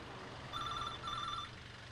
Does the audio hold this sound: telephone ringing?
yes